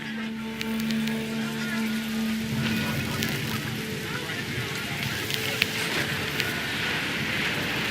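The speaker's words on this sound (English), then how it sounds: "Rain came down in buckets then" Steady video game rain pours down in a dense, even hiss, with scattered drips and patters over a low rumble, continuous throughout.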